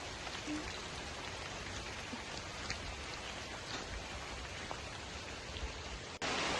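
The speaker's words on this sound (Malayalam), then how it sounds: "ഇതിൻ്റെ ഉള്ളിലേക്ക് കയറിയപ്പോൾ ചെറുതായിട്ട് ഇങ്ങനെ മഴ പെയ്യുന്നുണ്ട്" Soft, steady patter of light rain in Janaki forest, Kuttiyadi, Kozhikode, a continuous hiss with occasional drops, quiet and even throughout before a brief louder bump at the end.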